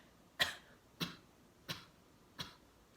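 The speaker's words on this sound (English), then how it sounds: "So you can start with a cough and then close the mouth" Four short, sharp coughs, evenly spaced about every half second, close and fairly quiet with silence between them.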